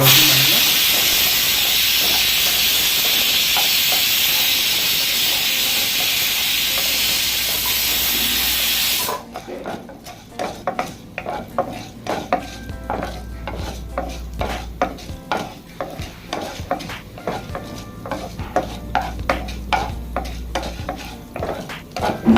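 Urad dal frying in hot oil, starting as a loud, even hiss and sizzle that drops sharply partway through into quieter crackling with a string of rhythmic scraping stirs, all close, with no talking.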